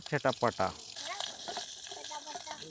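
Curry leaves hit hot oil in a home kitchen and crackle with a bright, continuous sizzle that starts after a few spoken words and carries on steadily.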